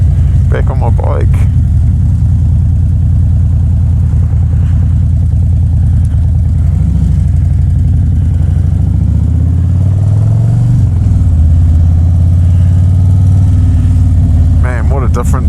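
A 2024 Harley-Davidson CVO Road Glide with a cam position sensor fault rumbles steadily at close range, a continuous low engine drone with a slight swell mid-way. Someone talks briefly at the start and end.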